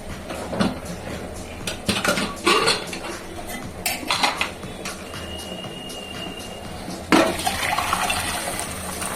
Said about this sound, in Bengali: এবারে ডাল সিদ্ধটা ঢেলে দেবো